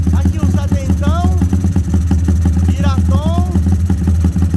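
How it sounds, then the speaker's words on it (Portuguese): A freshly built 70mm big-bore motorcycle engine, nicknamed Piratão, runs on its first start with a steady, loud, close rumbling idle, while people talk over it. "primeira partida do Piratão de 220 por hora"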